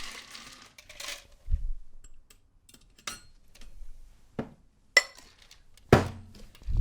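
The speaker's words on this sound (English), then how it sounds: "So let's add some ice to our shaker tin here. I dropped it everywhere again, guys." Ice cubes drop into a metal cocktail shaker tin, some spilling around it, giving sparse, sharp clinks and knocks spaced a second or so apart with quiet gaps between them.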